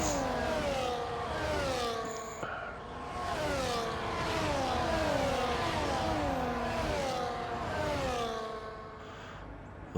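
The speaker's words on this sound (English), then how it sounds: "Lovely sound as them cars pass the camera, and they're all sort of equally spread out." Racing cars, among them an Aston Martin, in an ERC Masters race at Monza scream past the trackside position one after another. The engine notes rise and fall with Doppler sweeps as several evenly spaced cars go by loudly.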